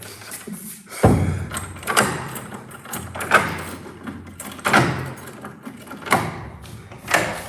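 A hard-to-operate door in Ollantaytambo is opened and closed, producing a series of loud thumps, knocks and rattles spaced a second or so apart.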